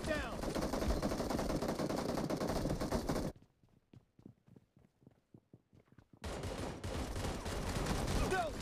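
Gunfire in the mobile battle royale game BGMI fills the opening and closing seconds as loud, dense bursts, separated by a quieter middle stretch of faint ticking and footstep-like taps.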